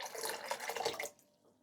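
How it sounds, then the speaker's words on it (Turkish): Produce being rubbed and washed by hand in vinegar water, heard as a short, soft burst of splashing and trickling water that stops after about a second, leaving near silence. "Sirkeli suda 10 dakika bekletelim. Ve güzelce tek tek ova ova yıkayalım."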